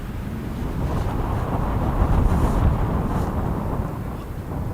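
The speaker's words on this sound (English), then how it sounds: "The wind's pretty gusty as opposed to consistent" Gusty wind sweeps across a frozen winter camp at minus thirty degrees with an igloo and hot tent, a low rumbling buffet that swells and eases in uneven surges, with no talking.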